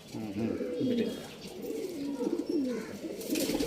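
Soft, repeated pigeon coos close by, a steady throaty warble rising and falling over a faint background murmur.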